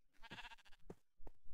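Minecraft sheep bleat in a short burst of wavering, nasal cries, then a pause and two briefer bleats, close and fairly clear, with no talking.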